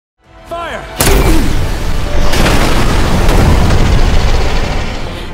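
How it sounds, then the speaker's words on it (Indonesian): A loud explosion in a Resident Evil film bursts out after a brief rising whine, followed by a long roaring rumble with crackling debris that stays loud to the end. "terjadi ledakan"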